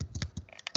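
Keys tapped on a computer keyboard while a share name is entered for a shared folder in Windows 10, a short burst of several quick, close clicks with small gaps between them.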